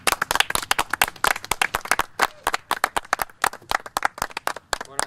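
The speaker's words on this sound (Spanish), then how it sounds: "les pido un aplauso para recordar al Gonchi." A small group claps in memory of a racing driver at a motorsport program, the individual claps sharp and distinct, fairly close, in an uneven rhythm that never blends into a continuous wash.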